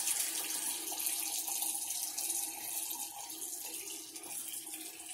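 Water runs steadily from a tap and splashes faintly as someone wets their face at a sink, a soft, continuous hiss with no talking.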